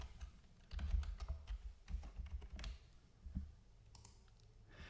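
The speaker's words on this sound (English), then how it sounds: "I need to type in my password so this thing can run." Quiet, close clicks of a computer keyboard as a password is typed in, an irregular run of key presses with brief pauses and no talking.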